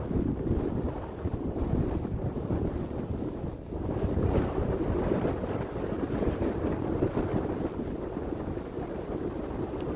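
Strong wind buffeting the microphone outdoors at a model airplane flying field, a loud, continuous roaring rumble with gusting surges and no speech.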